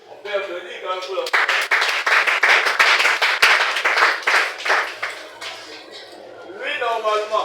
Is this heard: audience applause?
yes